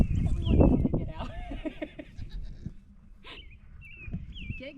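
Goats bleat on an off-grid farm, several wavering calls near and loud, some overlapping, with a person's voice and other farm noise mixed in.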